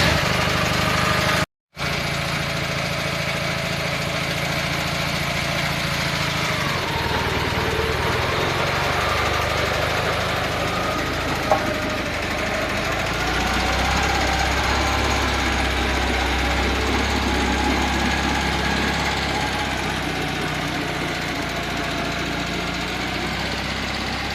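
Small engine of a homemade mini tractor built from walk-behind tillers runs steadily throughout, a close, constant chugging drone with a faint knocking texture and no talk.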